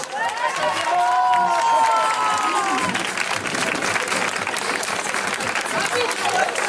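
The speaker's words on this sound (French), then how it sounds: "Applaudissez-la s'il vous plaît" Crowd applause and cheering at an outdoor student colour run in Aytré: loud, continuous clapping from many people, with a few voices whooping high above it early on, then steady clapping and crowd murmur.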